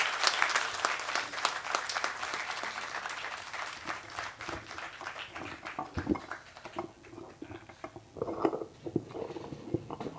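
Audience applause at a Hindi kavi sammelan honoring poet Santosh Anand: a dense, loud burst of clapping from a crowd that thins and fades over several seconds, with scattered voices and a few louder claps near the end.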